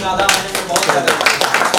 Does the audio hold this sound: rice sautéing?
no